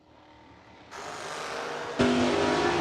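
Drag racing cars at a bracket race roar in two sharp, loud bursts as they launch, the engine noise building and stepping up abruptly, with no voices heard.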